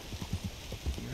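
Horse hooves clip-clop in a steady uneven series of soft thuds in Red Dead Redemption 2 during free-roam horse hunting, moderately near, with low game ambience around them.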